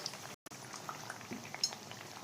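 Bajji batter fritters, likely raw banana, deep-frying in hot oil, a steady soft bubbling hiss with a brief full dropout near the start and a faint clink later.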